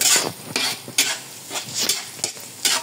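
Dinuguan cooking in a pan, with repeated stirring strokes scraping about once every half second over a steady sizzle of frying; close and moderately loud, no talk.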